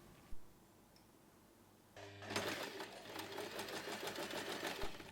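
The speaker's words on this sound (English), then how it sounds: "Press it and top stitch around the edge." A sewing machine top stitches around the edge of a small snap wallet keychain, starting up after a soft click and running in a fast, close, even ticking hum.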